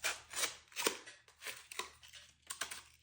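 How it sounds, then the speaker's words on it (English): Scissors snip through piñata material, cutting out a pie-shaped wedge, in a series of short crisp cuts spaced about half a second apart, close but fairly quiet. "you just kind of cut like a pie shape out of it"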